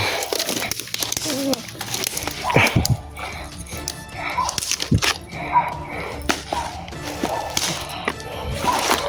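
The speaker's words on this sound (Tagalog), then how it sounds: "Sobrang ingay ng aso, no?" Dogs bark and yip in scattered bursts, fairly close, with some rustling and a voice occasionally speaking over them.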